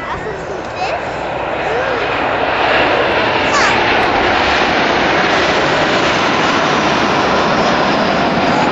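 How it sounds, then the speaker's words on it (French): Patrouille de France jets fly over an air show at Saint-Brevin-les-Pins, their loud broad engine roar swelling and then holding steady while a voice on a loudspeaker talks throughout. "retournez-vous, il y a encore les avions là"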